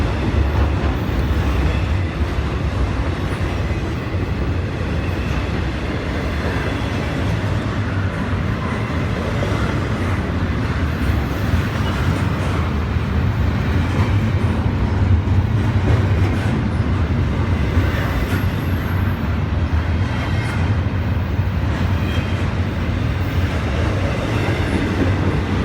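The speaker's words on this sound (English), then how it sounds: "I think there is definitely a second locomotive in the middle of this train." A long freight train hauled by locomotives, including one mid-train, rolls past in western New York with a loud, continuous rumble and steady rhythmic clatter of wheels over rail joints, close by and without any talk.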